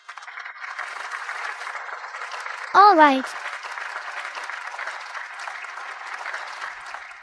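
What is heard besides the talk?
audience applause at a competition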